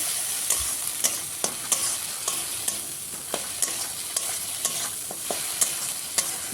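Masala spice mix stirred and frying in a pan over high heat, with a steady sizzle under repeated scraping and clacking strokes of a spoon at a brisk, fairly regular rhythm, close and clear.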